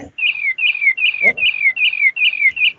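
Bird chirping sound effect in a Scratch program, a close, loud run of seven quick, evenly spaced bright chirps in a steady rhythm, with a brief low thump partway through.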